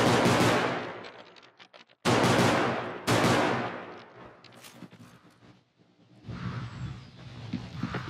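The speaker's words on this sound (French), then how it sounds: "Rien que le son des armes est incroyable." Weapons fire in the realistic shooter Bodycam: loud bursts of automatic gunfire, a few sharp gaps between volleys, then quieter scattered shots and rumble.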